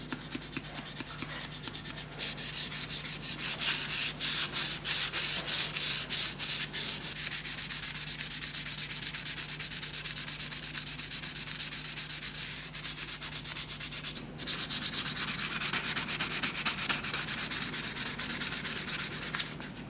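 Steady rhythmic rubbing strokes of a Scotch-Brite pad buffing the finish on a wooden lamp, continuous with a brief pause partway through.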